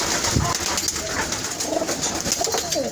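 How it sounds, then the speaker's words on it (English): Doves cooing on a poultry farm, soft repeated coos close by over a steady background hum, with no talking. "These are doves."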